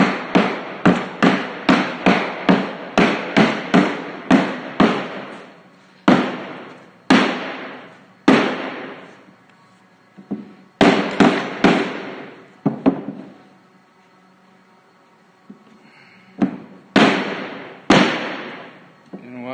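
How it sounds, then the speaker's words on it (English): A hammer strikes a rustic wooden entryway table top to fit it into place. Loud, close, sharp knocks come in quick runs with short pauses between them. "We use our hammer."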